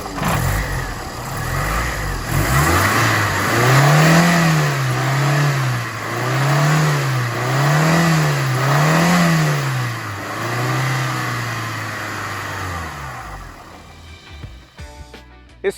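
A GM Family II 2.0 engine of about 110 hp in a 1990s Chevrolet Monza GLS revs repeatedly in several rising and falling blips over a steady idle, heard close and loud from the open engine bay, then settles back to idle.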